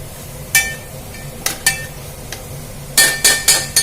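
Grated coconut stirred into melted jaggery in a pan for fried modak filling, heard as scattered spoon clinks and scrapes against the pan: a few isolated knocks, then a quick run of four louder strokes near the end.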